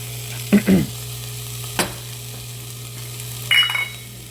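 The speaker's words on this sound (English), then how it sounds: "I'm going to saute it so that the oil is really coating the onion" Onion sautéing in oil with pepper in a pan for beef chili, a low steady sizzle with a few brief scraping stirs, close and quiet with no voices.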